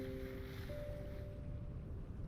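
Steady wash of water splashing in the Vintage Story video game as an item is held down in the water, with a few brief chiming tones over the first second and a continuous rushing noise throughout.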